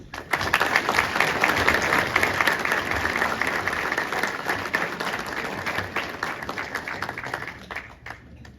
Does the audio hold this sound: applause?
yes